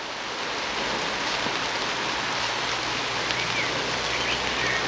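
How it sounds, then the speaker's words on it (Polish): Heavy rain pours onto the collapsed roof of an abandoned villa, a dense, steady hiss of water with no letup, close and fairly loud, and no voices. "Ale leje."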